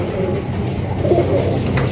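A large female Giasulli pigeon cooing in a pigeon seller's pen, low soft throaty coos heard close over a steady murmuring background for two seconds.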